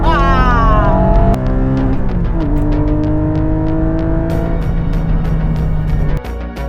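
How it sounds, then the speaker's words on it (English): A 2020 Porsche 718 Cayman GT4 with its 4-liter flat-six revving hard: rising engine notes climb and fall across several sharp rev sweeps, loud and close, ending with an abrupt drop-off. "And then there's the way this car revs."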